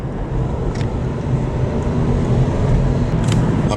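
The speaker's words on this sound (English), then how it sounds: "Weird traffic, though, on this Sunday night" Loud, steady roar of road traffic on a Sunday night heard from a moving ride, a dense low rumble with no speech.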